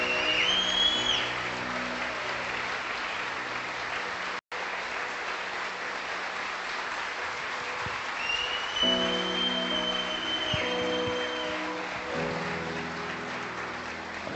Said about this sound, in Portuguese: Aplauda o Senhor Deus Todo-Poderoso.